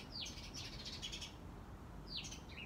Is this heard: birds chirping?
yes